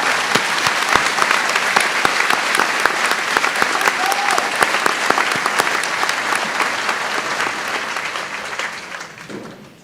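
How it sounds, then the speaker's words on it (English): A large crowd at a high school graduation ceremony applauds the school educators, steady and loud for most of the time before tapering off at the end. "Please join me in a round of applause for this group of amazing educators."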